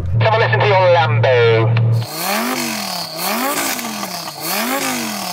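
A Lamborghini Huracán engine revving in repeated rising and falling sweeps against a soft limiter around 4,000 RPM, loud and close, after a brief burst of voices at the start.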